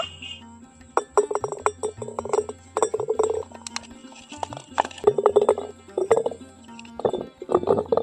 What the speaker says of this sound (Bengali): এখন আমলক্ষীগুলো জারের মধ্যে নিয়ে নেব